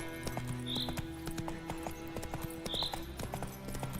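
Horse hooves clip-clop at a steady trot in The Witcher 3 game, a rhythmic run of moderate hoofbeats over a continuous low game-world hum, with brief faint whinny-like tones.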